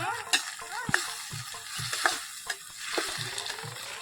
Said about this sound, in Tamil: பத்து கிலோ தக்காளி போட்டுக்கலாங்க. கிளறி விட்டுக்கலாங்க.